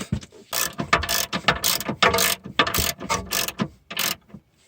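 A ratchet runs a 22 mm nut up a ball joint stud on a Mitsubishi Delica L400. It gives a close, rapid series of clicking bursts in uneven strokes, each stroke a quick rattle of pawl clicks, then stops.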